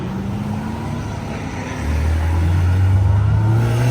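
Yellow Lamborghini SV hypercar on a Los Angeles street, a steady engine drone that swells into a louder, deeper rev midway and holds there, fairly close, with no talking.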